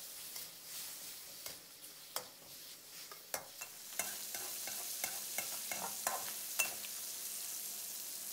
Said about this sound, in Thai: ขั้นตอนแรกนะครับเรามาเจียวหนังไก่เพื่อเอาน้ำมันไก่กันเลยครับ